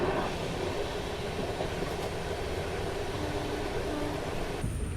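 Amrit Bharat Express train pulling into Jasidih Junction railway station, a steady low rumble of rolling carriages with a faint hiss, continuous and fairly close, without talk.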